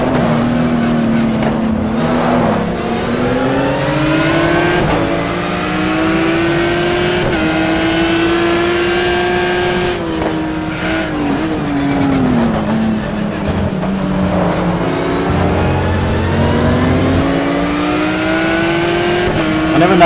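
A Ferrari race car engine in the racing game GTR2 revs loud and close, climbing and dropping through gear changes with repeated rises and falls in pitch, and a voice talks over it now and then.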